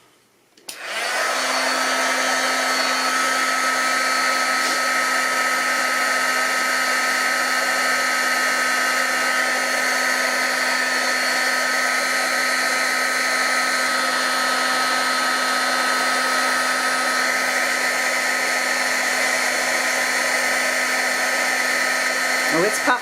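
A heat tool whirs on after a brief quiet start, warming puff embossing paint on a craft project with a steady, close, unbroken blowing hiss that holds at the same level to the end.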